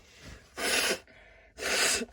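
Two loud sneezes a second apart from a person with a cold, each a sharp burst with a short inhale before it, close to the mic and with no talk.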